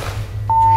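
A single steady electronic beep from a phone answering machine in the horror game Slender: The Arrival, sounding clear and sustained for about a third of a second over a low ambient room hum inside a house.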